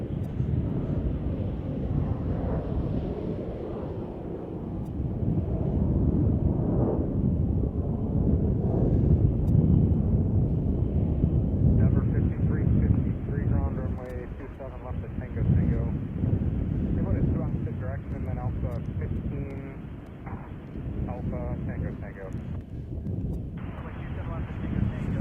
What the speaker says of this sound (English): You're looking at Air China Cargo Flight 8443 on a 777 freighter that just arrived from Anchorage, going off to cargo